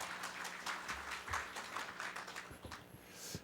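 An audience at the founding general assembly of the South Jeolla residents' self-governance association claps to welcome lawmaker Lee Nak-yon, a moderate, scattered applause with uneven individual claps and no voices.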